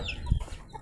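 Hens clucking briefly at close range, with a short low burst of fowl noise as the birds gather around mango set out for them to eat.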